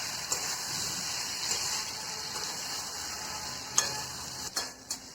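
Eggplant masala sizzles steadily in a pan while being stir-fried, with a constant close hiss and a few sharp scrapes and knocks of a spoon toward the end, no voices.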